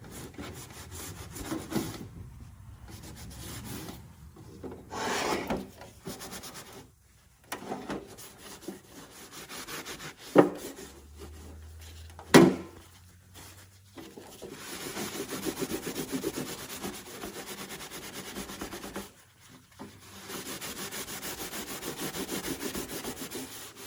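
Wax is rubbed onto a thrifted wooden piece, making repeated scratchy rubbing strokes in bursts with short pauses and a few louder knocks partway through.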